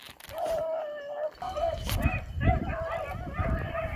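Hunting dogs chasing a rabbit bark and yip at a distance, with a few excited calls rising over outdoor background noise while someone talks nearby.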